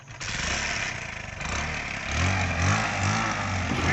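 The engine of a farm tractor called Bullet runs close by, a loud, steady rumble that chugs and swells partway through without stopping.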